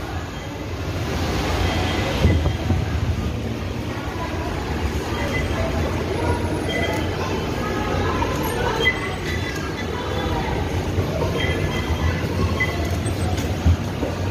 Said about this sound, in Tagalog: Napunta na po tayo sa tren para mag-abang.